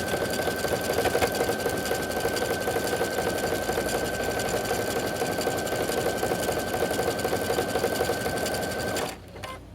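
A sewing machine stitches a waistband seam on a pair of shorts, running fast and steady in one unbroken stretch. The rapid, even needle chatter is loud and close, then stops abruptly near the end, with no talking.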